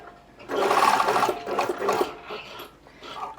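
A sewing machine stitches tabs onto the wrong side of a sleeve with a steady mechanical whirr that starts abruptly, runs about a second, then continues in softer, uneven bursts, with no talking.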